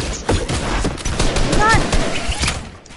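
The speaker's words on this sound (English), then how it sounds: "How much damage does my drum gun do?" A drum gun fires in a video game, giving a loud, fast barrage of shots with heavy thuds that carries on for several seconds while a voice talks over it.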